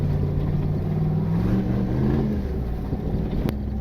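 An off-road vehicle in 4 low creeps down a mountain hill, its engine droning steadily with rising and falling throttle tones, close and continuous, with a brief sharp knock near the end.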